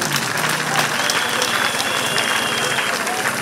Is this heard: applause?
yes